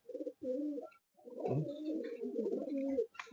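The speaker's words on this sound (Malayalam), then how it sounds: "ഇത് ഇവിടുത്തെ പാലക്കാടൻ പ്രാവാണ്" Palakkadan pigeons coo close by in a series of soft, throaty calls, broken by brief pauses, with no talking.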